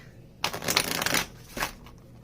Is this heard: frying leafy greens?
no